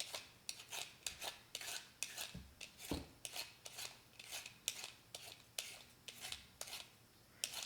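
A yuca root being peeled by hand, with a steady run of short, crisp scraping strokes of a blade on fibrous skin, close and quiet, about two to three strokes per second, and no talk.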